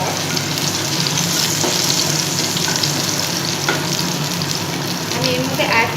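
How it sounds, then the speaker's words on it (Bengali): Ginger and garlic fry in a pan over lowered heat for egg chilli, giving a steady, close sizzle and crackle that holds at one level throughout with no talking. "আদা রসুন একটু ফ্রাই হওয়ার পর"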